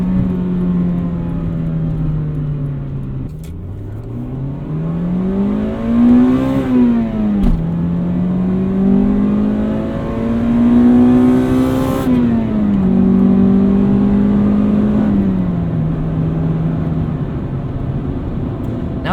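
A 1995 Acura Integra GSR engine revs up and down through several gear changes, the pitch climbing, dropping at each shift and climbing again, loud and close with a steady whir underneath and no talk.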